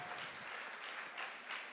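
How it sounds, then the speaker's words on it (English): A brief, soft patter of applause comes from an audience at a young professionals fellowship conference. The clapping is faint and slightly distant, with no voices over it. "Let's give her a better round of applause, please."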